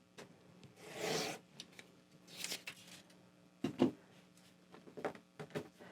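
Foundation paper piecing, fabric and paper, trimmed along a dashed line in several short, separate rasping strokes, close and fairly quiet with pauses between them.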